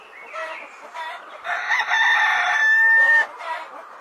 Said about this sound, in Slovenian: Takole nas petelinček na kmetiji zbudi.